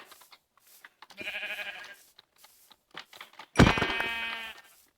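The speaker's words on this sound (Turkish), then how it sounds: "Şimdi burada biraz koyun buldum" Two sheep bleats from the Minecraft survival video game, a shorter one followed by a louder, longer one, with quiet game sounds between and no talk.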